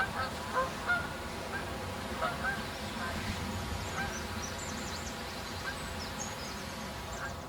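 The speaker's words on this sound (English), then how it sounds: "Canada geese." Canada geese honk repeatedly, calling in scattered bursts at moderate distance, with faint talk under them.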